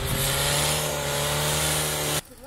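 A pickup truck's engine revs hard and steadily while stuck in soft snow near a mountain summit, a loud sustained roar that cuts off abruptly near the end.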